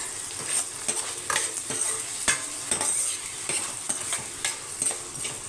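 Onions salted and sprinkled with turmeric sizzle steadily in a pan for a potato and chana dal curry, with a spoon scraping and stirring in irregular strokes close by.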